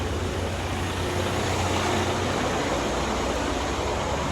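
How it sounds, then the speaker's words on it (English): A truck engine runs nearby as a steady, broad, rough rumble at a low, even level, with no voices over it. "There's the engine noise here from my truck."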